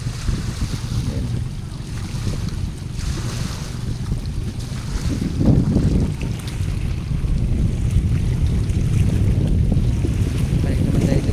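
Fishing boat out at sea, heard as a low continuous motor rumble mixed with wind buffeting and waves, steady and moderately loud throughout with no talk.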